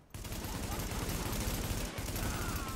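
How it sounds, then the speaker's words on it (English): Retro Lancer rifle firing in The Division video game: a loud, close, dense stretch of rapid gunfire that runs almost without pause for nearly three seconds, with one brief gap. "Gotta burst fire that Retro Lancer."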